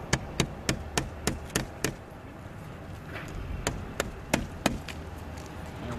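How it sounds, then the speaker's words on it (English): Nails hammered into solar roof flashing: a brisk run of about seven sharp, ringing hammer strikes, a short pause, then four more blows, close and clear over faint background hum. "And we'll do our final nail here."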